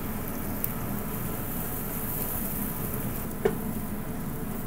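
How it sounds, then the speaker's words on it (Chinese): Minced garlic and dried shrimp stir-fry in a wok with a little leftover oil. A steady, even sizzling hiss runs throughout, with one brief scrape near the end and no voices. "蒜蓉蝦米爆一爆先。"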